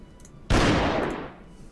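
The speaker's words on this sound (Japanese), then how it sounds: "ハンターは発砲" A single gunshot from the hunter in a Werewolf social deduction game, one loud close blast with a sharp attack that decays over about a second, standing alone without talk.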